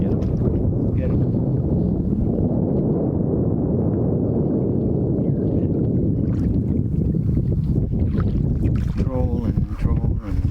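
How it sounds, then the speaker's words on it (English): A canoe paddled across freezing cold water during spring splake fishing, with a steady wash of water and wind rumbling close to the microphone and a few brief sharper knocks near the end. "Freezing cold. Paddling away."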